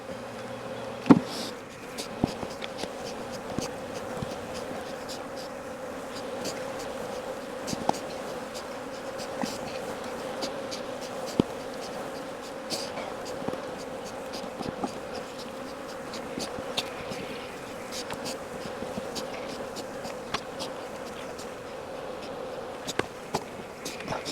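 Honey bees buzz in a thick, continuous drone around hives being split into mating nucs in a Florida apiary, with occasional sharp clicks and knocks of hive equipment over the steady hum.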